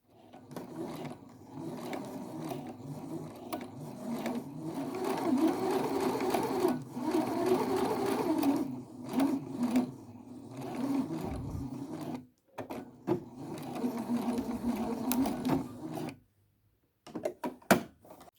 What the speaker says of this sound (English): to do the flat-felled seam, I have to sew them back to back